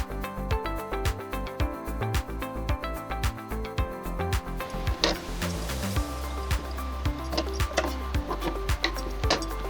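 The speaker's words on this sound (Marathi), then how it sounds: "आता आपण इथे दाब शिलाई मारणार आहोत" Sewing machine running a seam on a gown, a fast rhythmic stitching rattle with repeated ticking clicks, steady and close throughout.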